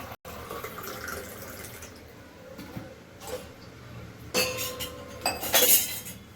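A spoon stirring barley powder into three glasses of water, bright metallic clinks and taps against glass with light splashing, sparse at first and then quicker, louder clattering near the end, close up with no talking.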